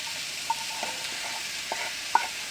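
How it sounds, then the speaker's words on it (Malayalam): Vegetables fry with a crushed spice paste in a pan, a steady broad sizzle broken by a few soft scrapes and light taps of a spoon stirring, close and with no voices. "നമ്മൾ ചതച്ച് വെച്ചിരിക്കുന്ന അരപ്പെല്ലാം കൂടെ അങ്ങ് ചേർത്ത് കൊടുക്കാം"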